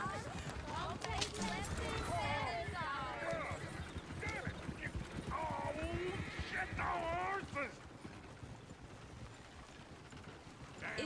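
Hooves clip-clop steadily over ground while a video-game horse, pulling alongside a coach, snorts and whinnies, with voices talking over the continuous clatter.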